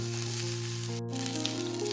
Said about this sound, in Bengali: তো ফুলকপিগুলো আমি যেহেতু ঢেকে ঢেকে ভাজছি তাই জন্য কিন্তু খুব তাড়াতাড়ি ভাজাটাও হয়ে গেছে